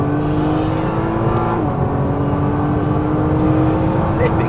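Nissan GT-R Nismo in race mode pulling hard on a track, a loud, steady engine roar climbing through the revs with a brief gear-change dip midway, close and continuous.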